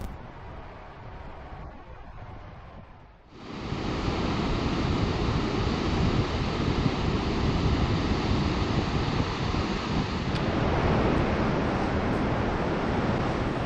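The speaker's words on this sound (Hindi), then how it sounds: "चलिए आ गया चियामचे वाटरफॉल।" Rushing water of Chiamche waterfall on the Annapurna Circuit in winter, a broad steady roar that swells in loudly after a quieter opening, close by and continuous with no voices.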